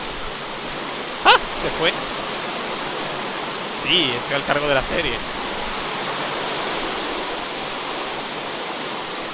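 Steady broadband rain hiss fills the scene in the Minecraft video game, constant and even throughout, with brief voices and a short game effect breaking in over it.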